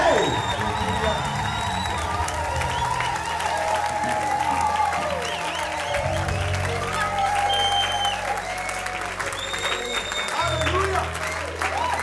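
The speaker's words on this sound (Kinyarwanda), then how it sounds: "Amashyi kwa Yesu iri mu ntoki nyinshi." A church congregation applauds and cheers for Jesus, sustained loud clapping filling the room with shouts and a voice calling out over it, continuous throughout.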